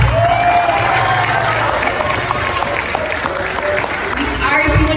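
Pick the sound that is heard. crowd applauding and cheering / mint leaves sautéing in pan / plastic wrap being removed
crowd applauding and cheering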